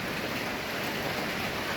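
Rain patters steadily in a continuous broadband wash, dense and fairly loud, with no voices over it.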